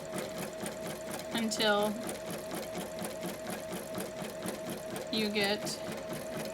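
Satin stitching on a Bernina Artista 730 sewing machine gives a steady, fast mechanical whir with a constant hum throughout, while a person talks over it.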